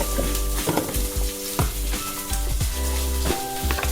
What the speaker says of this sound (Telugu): ఫ్రై చేసుకోవాలి ఎగ్స్.